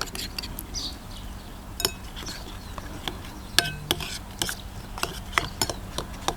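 A utensil stirs an egg mixture with onions in a frying pan, making irregular metallic clinks and taps against the pan over a low background hiss, growing busier toward the end.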